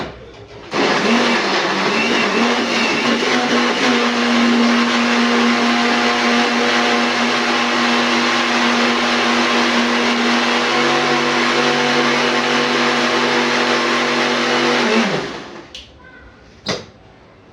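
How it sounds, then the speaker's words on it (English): Kitchen blender whirring through a cassava pancake mixture with milk, a loud steady motor drone held for about fourteen seconds before winding down and stopping. "we first blend the mixture"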